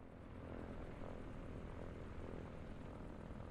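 A four-engine helicopter in the game Trailmakers gives off a steady, continuous whirring drone of engines and rotors at a low, even level, with no talk.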